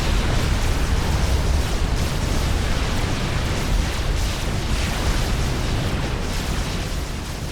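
Bombs dropped in the strategy game Supreme Commander: Forged Alliance detonate as a loud, dense, continuous rumbling roar of overlapping explosions with no clear breaks, slowly fading at the end.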